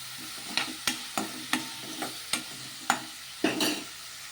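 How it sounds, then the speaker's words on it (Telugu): A spoon scrapes and clacks in a steady rhythm through tomatoes and salt cooking in a pan, with a soft sizzle running underneath, close and fairly loud. "ఇలా ఉప్పు వేసుకొని ఒకసారి బాగా కలిపేసుకోవాలి."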